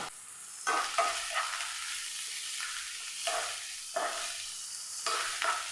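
Garlic cloves fry in coconut oil in a pan with a bright, steady sizzle, broken by several louder bursts of spattering and stirring scrapes, close and without any talk.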